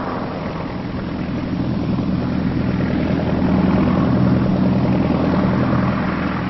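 A Chipmunk propeller trainer aircraft takes off with a steady, loud engine drone that swells slightly as it powers up, filling the scene without speech.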